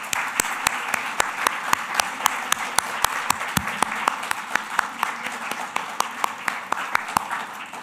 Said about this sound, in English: Let's have a final round of applause for all the poets